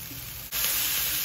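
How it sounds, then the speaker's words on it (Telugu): White galijeru greens dropped into a pan of frying onions and turmeric, a quieter sizzle jumping abruptly into a loud, bright, continuous hiss as the greens hit the hot oil. "ఇలా ఉల్లిపాయలు ఎర్ర వేయగానే ఈ తెల్ల గల్జేరు కూర కూడా వేసేసుకుందాను"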